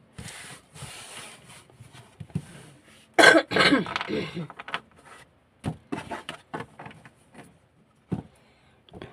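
A sharp, harsh cough bursts out close to the microphone, followed by a few smaller coughs and throat-clearing sounds amid scattered clicks and handling noise.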